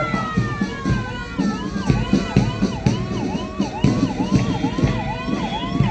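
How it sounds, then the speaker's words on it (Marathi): An Amravati municipal fire brigade vehicle's wailing siren cycles up and down repeatedly during a Maharashtra Day ceremony at a stadium, with overlapping siren tones and a background of crowd noise and rhythmic thumping. "महानगरामध्ये आग लागल्यास तातडीनं मदत करणारं अमरावती महानगरपालिकेचं अग्निशामक पथक नेतृत्व प्रमुख सय्यद अनवर"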